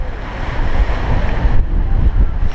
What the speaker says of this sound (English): the waves are too big going that way, even with engines